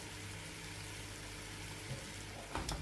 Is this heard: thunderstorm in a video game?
no